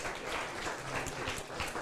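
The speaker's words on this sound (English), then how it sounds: "Round of applause." Audience applause at a talk event in Tallinn, a brief, soft wash of steady clapping that sounds somewhat distant.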